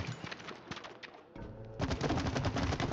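Rapid gunfire rattles in the video game It Takes Two, quick repeated shots in a fast rhythm that grows denser and louder in the second half, with cooing bird-like game sounds mixed in.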